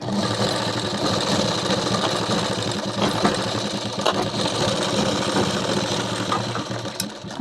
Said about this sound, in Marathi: सॉरी, मशीनचा आवाज भरपूर येतो.